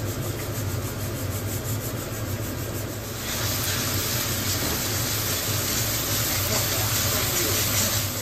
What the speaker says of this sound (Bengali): আদা রসুনটা মোটামুটি একটু ফ্রাই করে নিয়ে